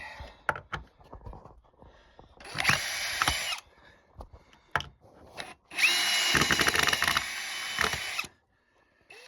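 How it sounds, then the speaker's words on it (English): A power drill whines in two bursts, the second longer, drilling wood with a new bit while patching an old mine ladder, with clicks and handling knocks between them, close by. "back down here again with a new drill bit"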